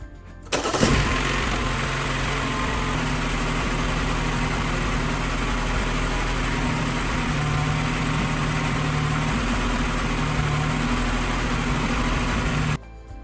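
A 2010 Mini Cooper 1.4 engine cranks, catches and settles into a steady, even idle that runs for about twelve seconds before cutting off, heard close and fairly loud with no talking.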